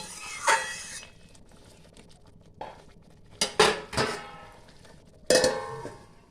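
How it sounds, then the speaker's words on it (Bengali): A metal lid clanks onto a pan of fish simmering in mustard and poppy seed gravy, a few sharp clinks and rattles close by in a quiet kitchen. "এবার আমি মাছগুলো দিয়ে দিলাম, দিয়ে 2 মিনিটের জন্য ঢাকা দিয়ে দেবো"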